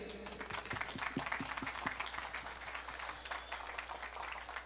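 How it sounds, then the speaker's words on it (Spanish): Applause from an outdoor farmers' day ceremony in Granada, a sustained crowd clapping with a dense patter of many hands at moderate distance, a few sharper individual claps standing out early on. "demos un aplauso muy grande por todo el campesinado de Granada"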